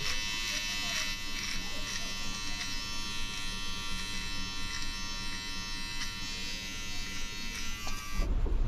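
Xiaomi electric beard trimmer buzzing steadily and close for the whole stretch while trimming, then cutting off abruptly near the end.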